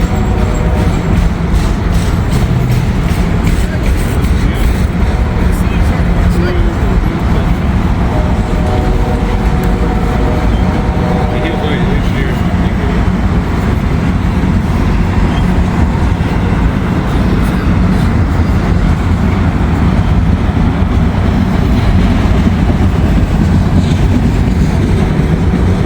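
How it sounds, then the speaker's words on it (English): Freight train made up entirely of auto rack cars rolls past close by, a loud sustained rumble and rattle of wheels and wagons that holds steady without letting up. "This is I-141. All auto racks, looks like."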